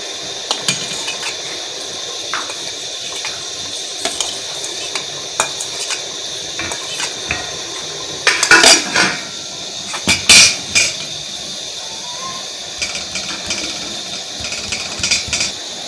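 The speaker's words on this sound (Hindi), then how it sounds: "अब हम इसमें प्याज डालेंगे।" Onions go into a pan during home cooking, with metal utensil clinks, scraping and stirring over a soft background sizzle, including two louder clatters near the middle.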